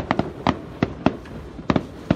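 New Year's Eve fireworks in an American neighborhood: a rapid string of sharp firecracker-like pops and bangs, some in doubled bursts, fairly close and loud with irregular spacing and no talking.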